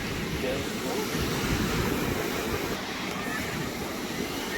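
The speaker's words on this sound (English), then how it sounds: "The waves were heavier earlier." Ocean waves surge and wash onto a beach in a steady, dense roar. Wind noise mixes in, and no voices are heard.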